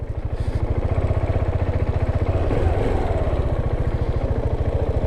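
A KTM Duke 690 motorcycle's single-cylinder engine thumps along in a loud, steady, fast pulsing idle right up close, with no talk over it.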